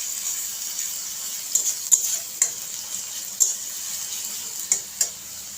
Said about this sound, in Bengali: পেঁয়াজ আর রসুনটাকে ভেজে নেব লাল করে